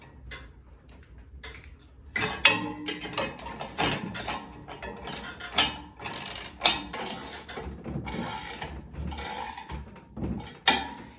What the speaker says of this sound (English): A nice ratcheting wrench like this one really helps save you some time in this part.